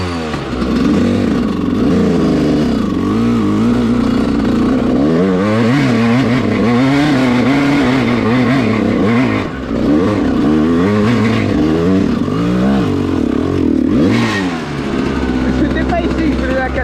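A 125 cc dirt bike revs hard as it climbs uphill on a trail ride, its engine loud and close throughout with rising and falling pitch and brief throttle dips.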